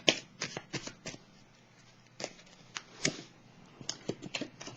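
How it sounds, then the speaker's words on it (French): Tarot cards are handled and laid down on a table in a tarot reading, with a string of quick, crisp card snaps and shuffling flicks in irregular bursts, close by and fairly loud. "je vais déposer une carte ici"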